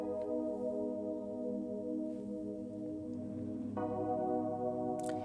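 A synth holds the same sustained harmonic chords of an R&B beat, shifting to a new voicing partway through, with an even, full level and no talking.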